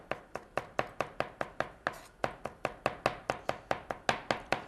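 A knife chopping fresh garlic on a cutting board, about twenty crisp, evenly spaced taps in a steady rhythm, close and fairly quiet with no talking.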